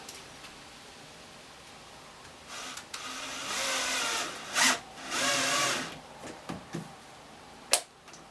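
A screw is driven to fasten trim, with a cordless driver whirring in two short bursts of a couple of seconds each, moderately loud and close, surrounded by light handling clicks and taps.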